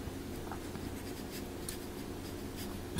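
Brush pen strokes drag softly across paper, quiet scratchy swishes repeating at an uneven pace, close and faint with no other sound.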